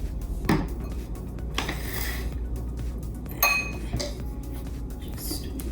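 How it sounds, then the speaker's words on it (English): Coconut oil spooned into a container for homemade hair moisturizer, with a few light spoon clinks and knocks against glass over a low background hum, close and fairly soft. "2 spoonfuls of coconut oil"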